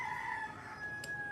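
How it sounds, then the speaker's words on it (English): A rooster crows once, a clear drawn-out call at moderate distance, standing alone against a quiet outdoor background. "even the roosters agree"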